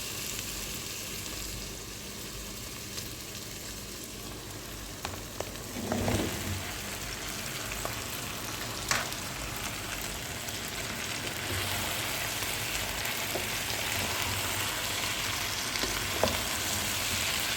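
Potatoes frying in a pan with tomato, garlic and carrot, giving a steady soft sizzle that runs the whole time, with a few stirring scrapes and clicks and a slightly fuller crackle near the end.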